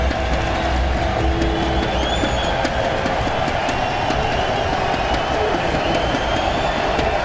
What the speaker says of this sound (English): Crowd tries to get into it with the noise